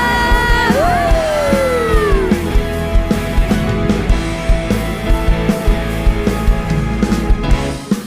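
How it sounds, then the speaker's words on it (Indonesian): Church congregation shouting and cheering hallelujah, a loud, sustained crowd roar with whoops and yells, music playing underneath and a voice rising above the noise. "Sorakan haleluya"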